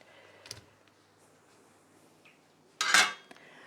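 A utensil moves onion into a heavy-bottomed pot, giving a few faint clicks and then one brief, louder metallic scrape and clatter against the pot.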